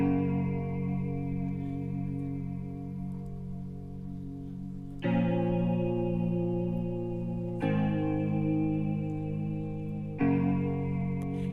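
Afrobeats guitar chords drenched in reverb, produced in FL Studio, struck three times after a long opening chord, each one ringing out with a spacious wash and lingering tail.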